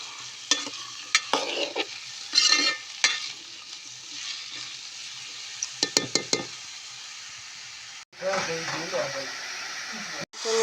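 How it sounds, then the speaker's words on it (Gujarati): Cauliflower fries in oil with mustard seeds, hissing and sizzling close by while a utensil scrapes and clinks against the pan in short bursts, with louder sizzle toward the end. "હવે ફુલાવરને સરસ મજાનું તેલમાં ચડી લેવાનું છે।"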